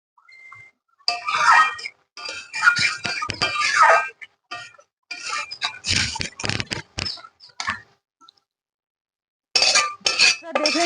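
A spoon clinks against a pan while stirring a fish and eggplant curry, bright irregular taps and scrapes in short bursts separated by brief pauses, close up.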